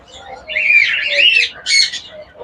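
A split blue male pigeon in hand gives loud, harsh squawks close up, one long raspy burst followed by a shorter one.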